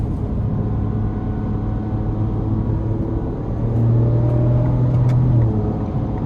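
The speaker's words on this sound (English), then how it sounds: "just the twin turbo V6 here is such a beast" A 2026 Ford Ranger Raptor with a twin-turbo V6 accelerating, heard from inside the cabin as a steady low engine rumble that swells and rises in pitch partway through, with no talking.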